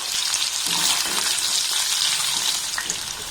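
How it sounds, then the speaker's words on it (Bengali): Cubes of paneer frying in oil over a very low gas flame until lightly browned, a dense, steady hiss of bubbling oil that carries on unbroken and close throughout. "এবার এই পনিরগুলোকে আমি তেলের মধ্যে দিয়ে ভেজে নেব গ্যাসের ফ্লেমটাকে একদম লো রেখে"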